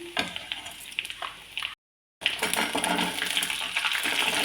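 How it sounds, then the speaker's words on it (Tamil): Onions sautéing in hot oil with tempering for a fresh green pepper kara kuzhambu, a close continuous sizzle with stirring scrapes, broken by a short silent gap before resuming louder. "வெங்காயத்தை சேர்த்து நல்லா வதக்கிக்கணும் அது அப்படியே வதங்கிட்டு இருக்கட்டும்"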